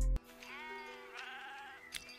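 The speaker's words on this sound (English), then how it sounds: "There come the sheep." Sheep bleat in the Spice and Wolf anime, a wavering drawn-out bleat followed by a few more overlapping calls, moderately close over a soft background bed.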